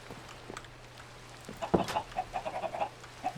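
Chickens clucking in the Minecraft modpack Enigmatica 2, a few short soft clucks close by over a faint steady hum, with no talk.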